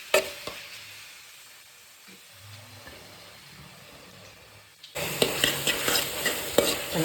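Egg gravy masala frying and being stirred in a pan, quiet low scraping at first, then a loud, steady sizzle with repeated stirring scrapes for the last couple of seconds; no talking.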